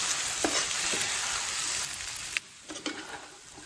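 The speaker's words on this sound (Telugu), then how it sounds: "చికెన్లో వాటర్ అంతా పోయేంత వరకు వేయించుకోవాలి" Chicken frying in a pan until its water cooks off, a loud steady sizzle with stirring clatters, easing down partway through and continuing quieter with a few scrapes.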